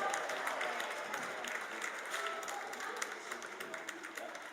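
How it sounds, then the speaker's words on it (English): Sustained round of applause from a crowd at a polo match, steady clapping that stays fairly even and moderately distant for several seconds. "Let's give him one more round of applause."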